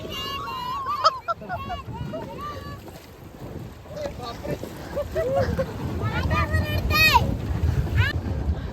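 A boat moving across the water of Kasarsai Dam near Pune, with steady water and wind noise throughout, while several people talk and call out over it.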